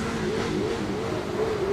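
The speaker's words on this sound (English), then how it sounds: "Another Subaru WRX." A Subaru WRX rally car at a khanacross event accelerates hard, its engine note droning loud and steady with a slight rising pitch.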